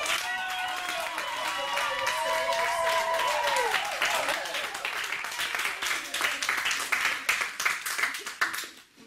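A church congregation claps and acclaims the Lord, quick overlapping hand claps that build into a lively burst of applause after a stretch of sung or sustained tones.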